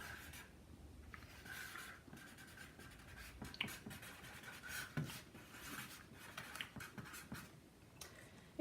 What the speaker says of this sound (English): I'll write down the size and sign it on the back